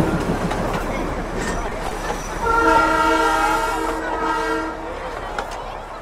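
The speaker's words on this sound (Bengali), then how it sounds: "এখনই কিন্তু টয় ট্রেন আসছে এই বাতাসিয়া লুপের উপর দিয়ে" The Darjeeling toy train sounds a sustained, bright horn for a few seconds while arriving over Batasia Loop, rising out of a busy outdoor murmur of a crowd.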